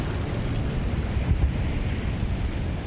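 Ocean surf breaking on an African shore with steady wind, a continuous broadband wash of waves and gusts that swells briefly near the middle, loud and close with no voices.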